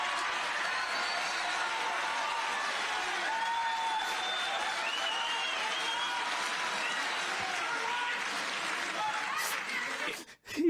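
An audience cheers and applauds in a sustained, even roar of clapping with scattered whoops and laughter, continuing steadily before cutting off abruptly at the end.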